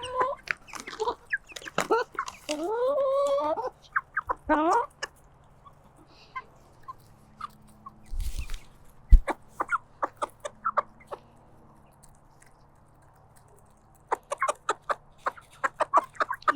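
Backyard chickens cluck and murmur close by in scattered bursts, a few pecking taps in between, with a quiet lull in the middle and the clucking picking up again near the end.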